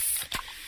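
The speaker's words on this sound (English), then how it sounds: "that's the sound of a freshly opened fizz-filled Pepsi" A freshly opened, fizzy can of Pepsi gives a brief sharp crack from the opening, then a steady carbonated hiss; close and loud, with no talk.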